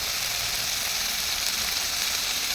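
Masala-coated chicken pieces fry in a small amount of oil, giving a loud, steady, dense sizzle that holds without a break from start to finish, with no talking over it.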